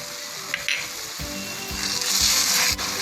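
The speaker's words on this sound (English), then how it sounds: "As our sugar and halwa are getting cooked together, I'll add the kesar elaichi syrup and mix it properly." Moong dal halwa cooks with sugar and saffron-cardamom syrup, a continuous hissing sizzle with occasional low stirring scrapes, close and fairly loud.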